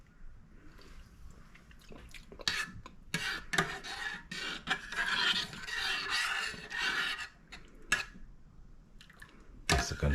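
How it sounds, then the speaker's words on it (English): A bread pudding mixture is whisked in a bowl, giving quiet, irregular scraping and sloshing strokes in bursts, close by with no talk. "Guess we can just whisk it a little more."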